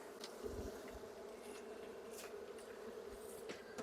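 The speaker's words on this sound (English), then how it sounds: "I can hear the bees buzzing like crazy inside of these boxes" A steady, faint hum of honey bees buzzing en masse inside a hive box, with occasional louder individual buzzes passing close by.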